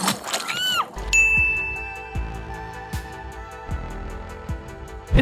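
A bright electronic chime rings out in Dead by Daylight, then a series of short metallic dings repeats at a steady beat, each with a soft thud beneath.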